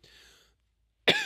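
A single sharp cough lands near the end, close and loud, after a faint stretch of background noise and a brief silence.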